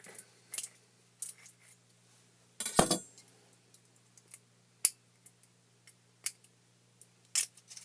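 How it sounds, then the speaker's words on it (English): Scissors snip through the plastic wrap sealing the cap of a bottle of Birrificio Torrechiara Panil Enhanced Final Blonde Ale, with one loud crinkling cut and a scatter of short, sharp snips close by, without talk. "The cap is wrapped in plastic, so we'll just work on cutting the plastic."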